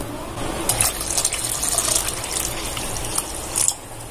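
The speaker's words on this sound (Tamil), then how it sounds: "இப்போ வந்து இதை நான் நல்லா வாஷ் பண்ணிவிட்டு இதை ஊற வைக்க போகிறேன்." Lentils and broken wheat being rinsed in a vessel of water for dosa batter, a steady close splashing and sloshing with small bursts of swirling liquid throughout, no voices.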